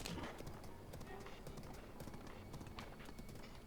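Horse hooves clip-clop steadily in Zelda: Breath of the Wild, a continuous galloping patter mixed with game ambience and light background sound, with a faint whinny possible.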